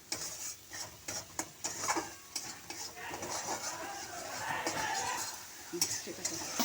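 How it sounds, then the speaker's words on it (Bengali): Spices with chopped green chili and salt stirred in a pan for gathi kochu curry: a soft sizzle under repeated scraping and knocking strokes of a spatula against the metal, close by and fairly quiet. "দিয়ে এবার আমি নাড়াচাড়া করছি।"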